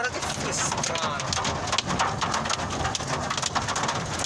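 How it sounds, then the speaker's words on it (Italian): Hail pelting down during a hailstorm in Milan, a dense, steady clatter of ice striking surfaces that holds loud and continuous throughout. "Guarda, grandine e basta!"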